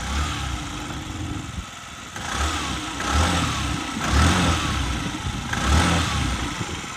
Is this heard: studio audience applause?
no